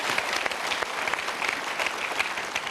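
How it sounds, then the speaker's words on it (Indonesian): An audience claps warmly at a motivational seminar, a dense, steady patter of many hands filling the room at close range without letting up. "Kita berikan dulu tepuk tangan untuk mereka."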